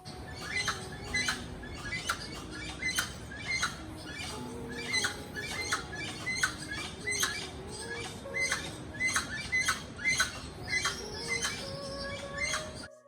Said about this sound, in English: Here we notice some other bird making interesting sounds.